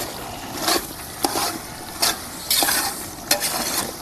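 A spoon stirs chicken curry with ginger paste in a pan, giving repeated scraping strokes over a steady close sizzle of frying.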